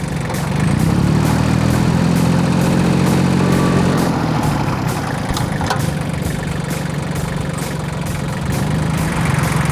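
A Kubota L-1802 DT Japanese mini tractor with a three-cylinder Kubota D1102 1.1-litre diesel idles steadily up close, a loud continuous low rumble that holds even throughout with no talking.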